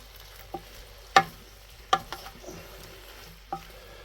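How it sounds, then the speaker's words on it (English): Venison and shallots browning in a pan for a steak pie, a soft low sizzle beneath several sharp clacks and knocks of a utensil on the pan, spaced irregularly and close. "we stuck the shallots in there while the meat is browning"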